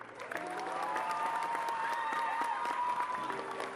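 An audience claps steadily for an episode-closing sign-off, the dense applause filling nearly four seconds at an even level with scattered cheers and voices mixed in.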